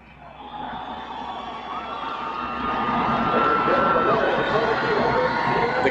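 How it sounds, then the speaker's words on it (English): A NASCAR Craftsman Truck Series crowd at Martinsville swells into a loud, sustained roar of cheering and whooping from spectators on their feet, building steadily over several seconds with broadcast commentary running beneath. "The crowd on their feet."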